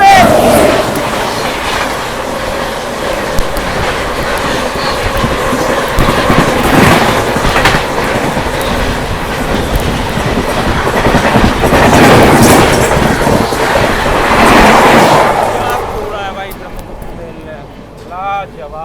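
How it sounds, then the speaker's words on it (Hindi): The Shiv Ganga Express runs past the Brahmaputra Mail on a crossing, a loud steady roar of rushing wheels and clattering rail joints heard from aboard that swells around the middle, then fades away toward the end. "क्रॉसिंग हो रही है भाई ब्रह्मपुत्र मेल के साथ"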